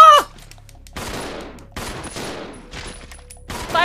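Rapid bursts of gunfire from the Resident Evil 0 HD Remastered video game on PS4, loud and repeated in several volleys across the clip with brief gaps, mixed with other game effects.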